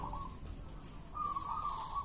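A zebra dove gives soft cooing calls in two short phrases, close by, over a noisy outdoor background.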